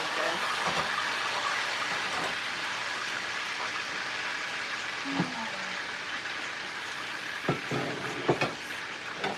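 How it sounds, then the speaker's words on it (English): Chicken sizzles and crackles steadily in a hot pan, with a few sharp pops and spatters standing out. "Why is it frying up like that?"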